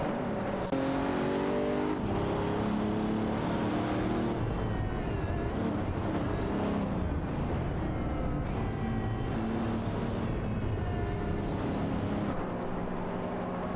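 Racing engines of a Ford Mustang Boss 302 and a Ferrari Portofino roar continuously in a video game race, revving and shifting as cars battle closely, with steady loud motor drone throughout.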